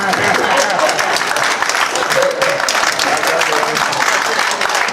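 Dense, sustained applause from a convention audience fills the hall, loud and continuous throughout with a crowd murmur beneath.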